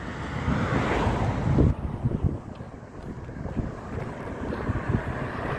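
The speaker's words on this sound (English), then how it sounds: "Crossing this big old river here." Water rushing in a big river crossed on foot along the Appalachian Trail near Duncannon, a steady broadband wash heard close and fairly loud, mixed with gusty wind buffeting the microphone, with no talking.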